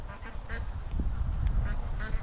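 Ducks in a yard give a few short quacks at a modest distance over a constant low rumble of wind or handling noise.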